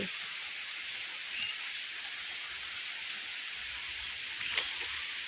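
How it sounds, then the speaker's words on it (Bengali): Heavy rain pours down in a dense, steady hiss, unbroken throughout with only faint drips standing out. "দেখতে পাচ্ছ কেমন বৃষ্টি হচ্ছে এত এত বৃষ্টি"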